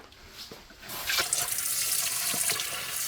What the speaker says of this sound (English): As always, first we got to wash our hands.